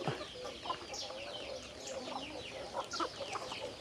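Chickens cluck and chirp steadily at feeding time on a rural farm among the rice fields in Thailand, where pigs are also kept, with several birds calling over one another at moderate distance and no talk.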